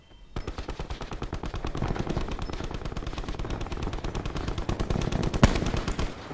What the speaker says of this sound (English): Nah, he just shooting that teammate